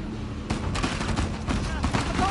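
Gunfire in the video game Uncharted: The Lost Legacy, a short burst of rapid overlapping shots and cracks heard up close against a busy background of battle noise.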